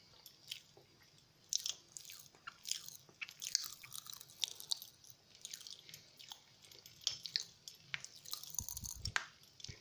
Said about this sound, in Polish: Jak słyszycie właśnie takie dodatkowe strzelanie, to byłem właśnie ja.